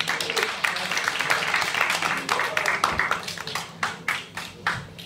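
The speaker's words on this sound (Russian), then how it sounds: "Аплодисменты." Applause and clapping from an audience at a music and poetry evening in a club, dense and fairly loud at first, then thinning into separate bursts that fade over about five seconds.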